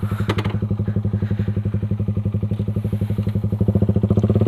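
A Suzuki Raider 150 carburetor motorcycle fitted with a Creed exhaust pipe putters with a loud, rapid, even beat that quickens toward the end as it revs up, heard close and alone.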